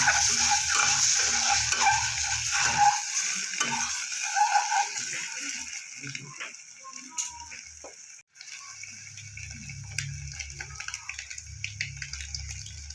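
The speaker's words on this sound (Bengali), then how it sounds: "ডিমটা আমি একটু লাল করে ভেজে নেব।" Eggs seasoned with turmeric and salt fry in a pan, giving a dense, steady hiss with light clatter that thins out after about eight seconds into a quieter, lower bubbling.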